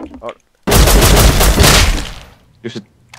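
Gunfire in the video game Rust: a loud burst of rapid automatic shots lasting over a second, followed by a brief short volley, with a voice speaking briefly at the start.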